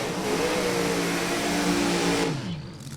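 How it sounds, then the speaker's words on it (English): A loud NHRA drag racing dragster engine roars and revs steadily, pitch rising slightly, then cuts off abruptly near the end, leaving a quieter rumble. "The car's loud, it scared me."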